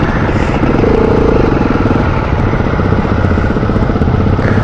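A KTM 690 motorcycle, a single-cylinder trail bike at an off-road skills day on steep ascents, holds a loud, close, steady engine drone with a rapid throbbing pulse that stays constant throughout.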